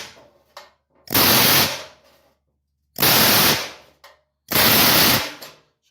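A groove is hammered into a metal panel for an Enfield 8000 contactor tray base. Three loud, close bursts of rapid-fire metallic hammering each last under a second, separated by short quiet gaps.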